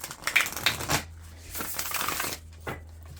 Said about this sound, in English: I just want to give you an opportunity to see me shuffle